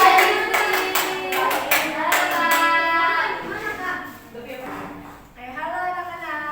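A fourth-grade class claps to welcome a visiting guest, a rapid run of crisp hand claps for a couple of seconds. The clapping fades into someone speaking and children's voices.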